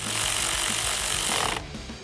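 A ratchet wrench clicks rapidly as the nut is reinstalled on a battery terminal of a 2022-2026 Toyota, a close, steady run of mechanical ticks that stops abruptly, leaving quiet handling noise.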